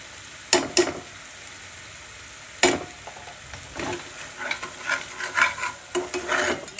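Spice paste for a prawn malai curry frying in a pan, a steady sizzle broken by a few sharp scrapes of a spatula and a burst of busier stirring toward the end, close, no talking.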